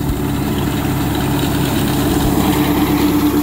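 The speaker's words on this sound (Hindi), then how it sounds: "ये ट्रैक्टर की चाल है इस स्पीड पे ट्रैक्टर चलता है" A Swaraj 855 tractor runs with a Moga Bharat reaper during wheat harvesting, giving a loud, steady engine drone with a low, humming vibration and no talking.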